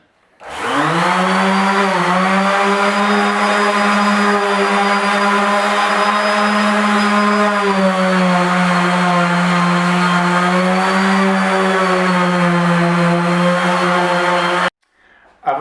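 An electric power sander running lightly over a beech wood desk panel, a loud continuous whining hum that starts abruptly, holds steady with small shifts in pitch, and cuts off sharply near the end.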